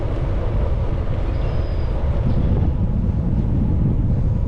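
A headwind roars across the microphone on a bike ride along a rainy trail, a steady low buffeting rush that continues unbroken throughout.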